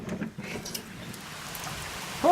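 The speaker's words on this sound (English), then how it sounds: "I don't know if you can see the rain, but I think a tsunami is coming" Heavy rain comes down outdoors as a soft, steady hiss at moderate distance. A brief sharp voice-like cry rises right at the end.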